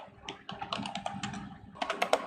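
Quick, uneven bursts of keystrokes on a computer keyboard, close and soft, as code is typed in a short run of clicks with a brief pause midway.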